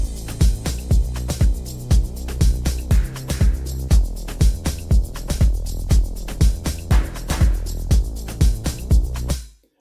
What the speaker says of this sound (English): And I added a bass from GMS.